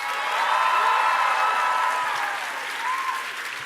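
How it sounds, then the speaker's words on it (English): Large political rally crowd applauding and cheering loudly and continuously, a dense steady roar of clapping with whoops on top that eases slightly toward the end. "But while we're in here cheering"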